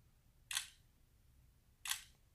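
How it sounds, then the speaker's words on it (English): Two crisp phone camera shutter clicks from a BLU Vivo 8, about a second and a half apart, close and clear against a quiet background. "I'm just going to take a quick picture just so you can see what the shutter speed looks like"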